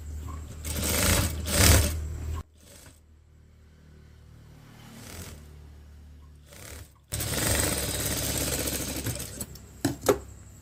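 A sewing machine stitches fabric for an open piece in loud, fast rattling runs, with a long pause between the two runs and a few short bursts near the end.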